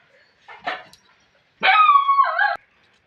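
A dog gives a short, soft yip, then after a pause lets out a single longer, whining bark, close and clear with silence around it.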